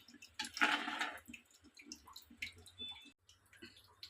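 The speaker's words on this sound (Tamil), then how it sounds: "இப்போ குழம்புக்கு கொஞ்சம் தேங்காய் ஊற்றிக்கிடுவோம் லேசாக அப்படி கிண்டி விட்டுருவோம்" Coconut milk pours into a simmering emperor fish curry (vilameen kuzhambu) and is gently stirred: a close liquid splash and gush for about a second, then soft drips and light stirring sounds.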